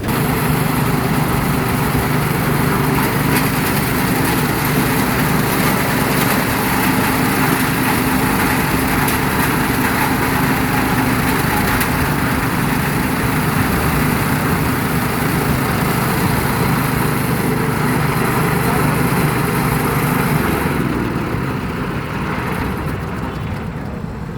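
A small petrol engine running a chaff cutter drones steadily at high revs for the whole stretch, loud and close, with a constant mechanical whir and no voices.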